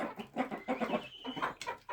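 Backyard chickens, including a white naked-neck hen, cluck in short, close bursts with soft, throaty notes and brief pauses, with no talk over them.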